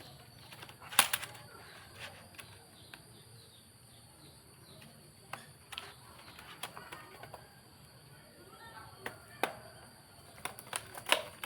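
Typing and key clicks on an Acer laptop keyboard during a keyboard replacement, with irregular bursts of sharp taps and clatter, some louder than others, over a quiet background with a high-pitched electronic whine.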